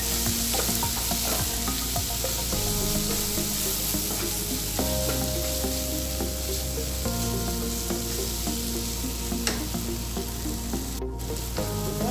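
Tomato sauce and chili sauce sizzle steadily in a pan as they are stirred for pasta, a continuous loud frying hiss with the scrape of a spoon, no voices.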